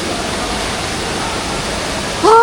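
A waterfall in Bali roars steadily up close, a dense, even rush of falling water that fills the whole scene, with a brief voice breaking in at the very end.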